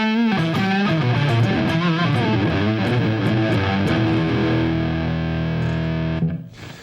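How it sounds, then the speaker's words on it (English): A distorted electric guitar through a combined distortion and octave effect plays a gritty riff with a thick octave doubling, loud and sustained, then cuts off abruptly near the end. "it's got actually a distortion and an octave at the same time"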